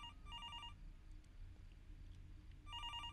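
A telephone rings faintly in the video game Fears To Fathom, two short trilling bursts at the start and end separated by a quiet low hum.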